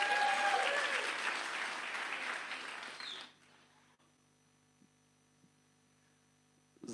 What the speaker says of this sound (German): Geef maar een applaus voor den.